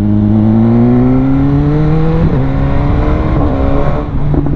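A BMW S1000R motorcycle engine roars close by, its pitch climbing and dropping through quickshifter downshifts, with sharp popping bursts from the exhaust.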